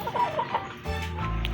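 Backyard chickens, including young gamecocks, cluck and murmur nearby in short, uneven bursts, with a louder low rumble of farmyard noise building toward the end.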